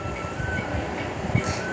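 A train pulls out of a station with a low rumble and rolling wagon noise, steady tones riding above and a brief knock near the end, fairly close with busy surroundings.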